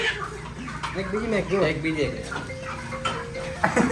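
Chickens cluck and squawk in agitated bursts close by as a rooster is caught, with a person talking over the commotion.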